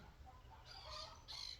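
Chickens clucking outdoors, two short bright bursts of clucking after a quiet start, faint and a little distant over a low background rumble.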